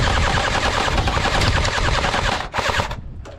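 An airsoft gun fires in rapid continuous bursts during an outdoor game, loud and close, with a brief break near the end before the shooting resumes.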